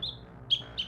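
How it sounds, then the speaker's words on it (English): A house sparrow gives three short, bright chirps, the first followed after a pause by two in quick succession, clear and close over a faint low background hum. "The humble house sparrow, a common sight in our gardens"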